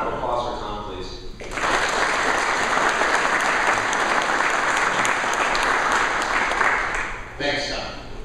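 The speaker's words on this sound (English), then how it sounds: "So a round of applause for Tom, please." At a cyber security event for manufacturers, an audience breaks into applause for a speaker, a loud, even burst of many hands lasting about six seconds, with talking just before it begins and again as it stops.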